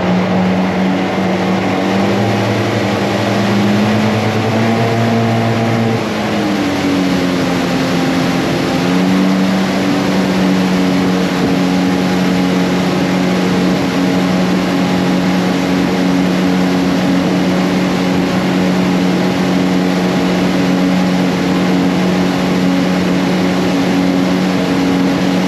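A Yamaha boat cruises at 5,500 RPM, its engine droning loud and steady with a constant wash of wind noise. The pitch shifts slightly early on, then holds even throughout.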